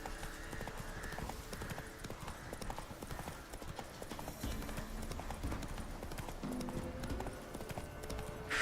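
Horse hooves clip-clop at a steady, rapid trot in The Witcher 3, a continuous rhythmic beat mixed with game ambience at a fairly quiet level.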